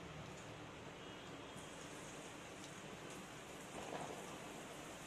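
Chicken pieces sizzle as they fry in hot oil in a kadhai, a dense, continuous crackling hiss at low level with no pauses.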